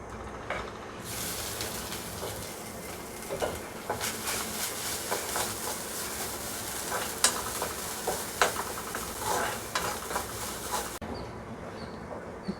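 Grated coconut roasting in ghee in a pan for avul payasam makes a continuous dense sizzle with scraping stirs and scattered pops, close up and without speech.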